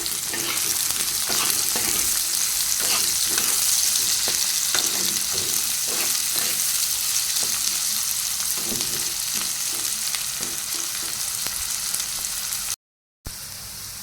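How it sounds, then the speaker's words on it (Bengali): Chopped onion sizzles and crackles steadily in hot oil in a pan, with occasional stirring scrapes and no talking, cutting out briefly near the end. "পেঁয়াজটা ভাজা হয়ে গেছে"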